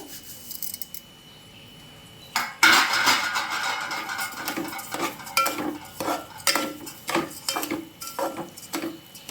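A spoon scrapes and clanks against a metal pan while stirring a thick flour-and-milk mixture for Navratri prasad, starting after a quiet pause, then repeated rhythmic scraping strokes, close and clear with no talking.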